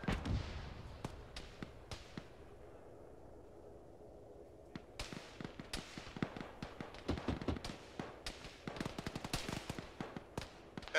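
Rapid bursts of autocannon fire crack out across a military video game battlefield set in Chernarus, a staccato of sharp reports with a quieter lull in the middle before dense, irregular firing resumes.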